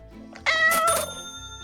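A cartoonish cat meow in the video game Supermarket Together as the cat is petted, a single bright drawn-out mew with ringing harmonics, loud and close over soft background game music.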